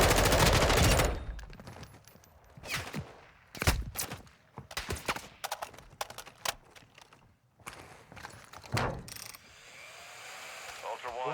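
Video game gunfire from a first-person shooter: loud automatic bursts and single shots in rapid clusters, with crackling impacts and radio chatter mixed in.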